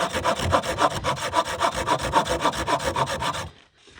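Firewood being hand-sawn while hot-tent camping on a fall backpacking trip: steady, rhythmic rasping strokes, close and loud, roughly four per second, stopping abruptly near the end.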